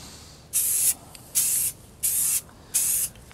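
Spray paint hisses onto a breeder tank in four even, steady bursts of about half a second each, close and loud, with short quiet gaps between passes.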